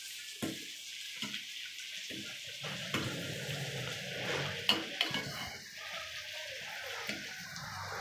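An oil and tea leaf hair mixture cooking on a stove while being stirred, with intermittent spoon clinks and scrapes against the pot over a soft, steady bubbling sizzle.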